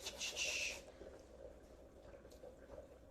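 A knob of fresh ginger is rasped across a grater for a miso cabbage soup: a quick burst of bright, scratchy strokes for under a second, then a low, quiet kitchen background.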